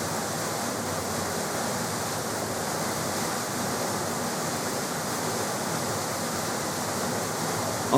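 Zapata Falls thunders at its base in winter, largely encased in ice, giving a loud steady broadband rush of falling water that stays constant and close throughout, with no voices.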